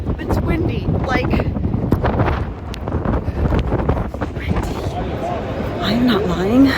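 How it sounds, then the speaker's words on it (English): Strong wind buffets the microphone outdoors on a walk through New York City, a loud, rumbling gusty roar that continues under someone talking throughout. "It's so windy."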